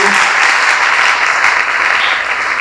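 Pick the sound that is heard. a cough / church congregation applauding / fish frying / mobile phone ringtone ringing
church congregation applauding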